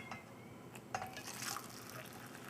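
Boiling water poured from a kettle to mix hot chocolate, a faint, short trickle and splash of liquid filling a cup, heard alone.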